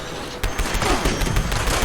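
Pepper Shaker shotgun in Fallout 76 firing at a Sentry Bot, a rapid run of loud blasts starting just under half a second in and continuing in dense, overlapping bursts to the end.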